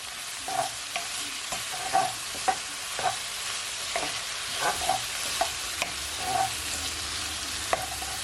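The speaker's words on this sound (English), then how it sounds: "You want to give it a stir." Seasoned shrimp stir fry with salt and black pepper being stirred in a hot pan: a steady sizzle broken by repeated light scrapes and taps of the utensil, close and fairly rhythmic.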